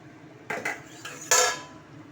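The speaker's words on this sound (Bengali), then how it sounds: "ঢাকনাটা আবার খুলে নেব।" A metal lid lifted off a cooking pot of prawn curry, a few quick clinks and clatters of metal on metal, with the loudest clang near the end, close and otherwise quiet.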